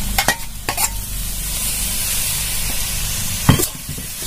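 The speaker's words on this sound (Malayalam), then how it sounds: "ഇനി നമുക്ക് അതിലേക്ക് ഈ കൂമ്പ് ഇട്ട് കൊടുക്കാം." Banana flower dropped into a pan of spice paste on a Kerala village stove, sizzling steadily with a few brief stirring scrapes near the start and one sharper clatter toward the end, no talking.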